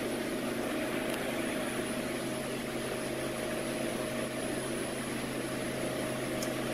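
Walk-in cooler refrigeration unit running on a mechanical control, a steady, continuous mechanical drone with constant tonal hum, close and unchanging throughout.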